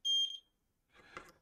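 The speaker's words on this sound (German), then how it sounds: "Wir hören, wenn es piepst, wissen wir, das klappt." A multimeter in diode-test mode gives one short high beep while probing components on a Physiomed electrotherapy unit under repair, followed by faint handling clicks and rustles.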